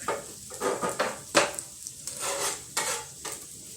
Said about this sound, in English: we're going to let this sizzle up a little bit